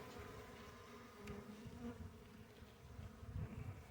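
Honey bees in a nucleus hive during a January check make a faint, continuous buzzing hum, swelling and dipping slightly as individual bees pass closer.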